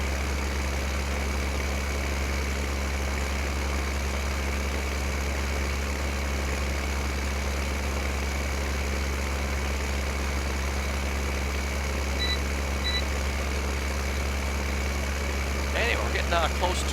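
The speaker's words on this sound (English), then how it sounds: "The tractor will get kind of stuck sometimes." A tractor engine in Farming Simulator 15, on the hilly Sosnovka map during corn planting, gives a steady, unbroken low drone that holds at an even level for the whole stretch.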